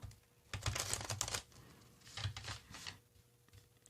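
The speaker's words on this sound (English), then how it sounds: "One more shuffle, they say." Tarot cards being shuffled by hand, giving soft, quiet riffling and flapping bursts in two or three short bouts with pauses between, fairly close and with no talking.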